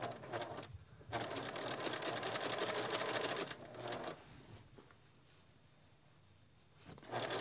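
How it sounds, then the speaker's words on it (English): A home sewing machine stitches binding onto a quilt in quiet, fast, even runs of needle chatter, starting and stopping in short bursts with pauses between. "I'm just going to sew along, keeping my foot even with the edge of the quilt."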